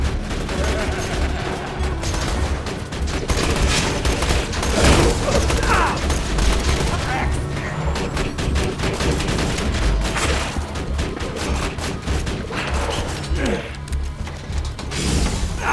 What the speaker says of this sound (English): I'll just fire a few shots and then go away.